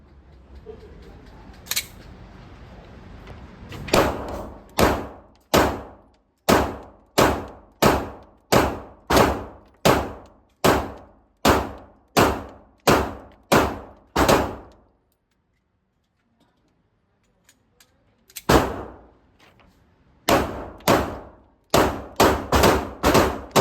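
Ruger RXM pistol firing at steel targets outdoors, sharp loud cracks in a rapid even string, a pause of several seconds, then another quick burst of shots, each with a ringing clang of steel.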